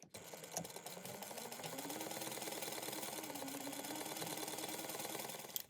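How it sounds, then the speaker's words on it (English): A sewing machine runs steadily, stitching a quarter-inch seam in fabric, a continuous close mechanical whir lasting several seconds with a brief start and stop. "we're going to sew that at a 1/4 inch seam allowance"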